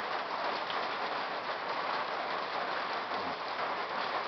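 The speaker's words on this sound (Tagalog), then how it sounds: "Lakas ng ulan eh." Heavy rain pours down steadily in coastal Mauban, Quezon, a dense, even hiss of drops on surfaces with no breaks and no voices, moderately loud and close.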